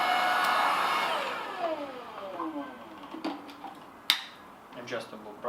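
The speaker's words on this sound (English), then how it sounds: "I will power up this vacuum cleaner" A Laresar Elite 2 cordless vacuum cleaner runs in eco mode. Its motor whine is loud at first, then winds down in falling tones while a person talks over it.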